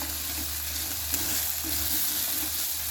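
Garam masala and red chilli powder sautéing in a pan, a steady close sizzle with soft stirring and faint scraping, for an Indian wild fig (umbar) vegetable dish.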